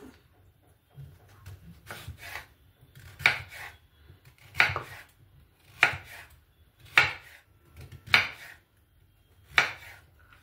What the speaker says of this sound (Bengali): এবার কুমড়োগুলোকে কেটে নেব